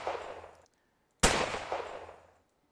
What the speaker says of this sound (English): Ooh, rifle sound. I like these sounds for the smaller guns.